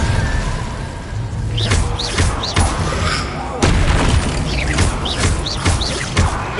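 Incendio fire spell cast in the game Hogwarts Legacy, whooshing bursts and booming impacts over a busy, steady game soundscape with chirpy effects, loud and close, a voice speaking at times.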